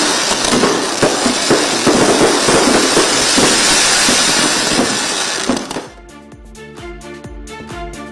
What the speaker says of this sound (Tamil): மேற்பட்ட பட்டாசுகள் வெடித்து சுமார் 20 நிமிடங்கள் வானை வண்ணமயமாக்கின.